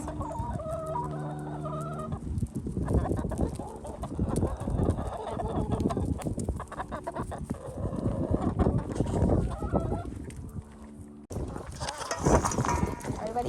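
Backyard chickens clucking and calling as they run toward their coop at bedtime, with a rooster crowing among them and a person talking to the flock close by over the busy, continuous clucking.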